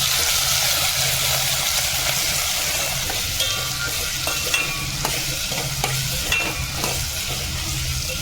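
Cumin and chopped onion, tomato, potato and chili fry in hot oil, a steady close sizzle with scattered sharp crackles and the scrape of stirring throughout, no voices.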